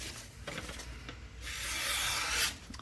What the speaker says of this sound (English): Yeah, it's just effortless through here. Really, really nice. Yeah, push cutting with ease.